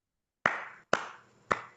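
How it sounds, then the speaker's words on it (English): Three sharp, close hand claps, evenly spaced with brief silence between each, alone without talk. "Ooh, got some claps."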